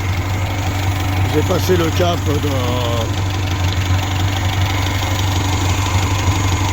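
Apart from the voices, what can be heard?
Peugeot J5 XN1T ethanol engine idling after starting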